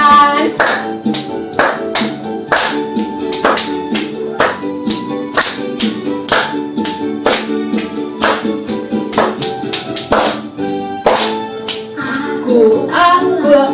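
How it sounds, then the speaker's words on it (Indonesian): Steady rhythmic hand clapping keeps time with a loud children's Christian worship song at an online Sunday school service, the sharp claps landing on every beat under the music. "Sama-sama tepuk tangan buat Tuhan."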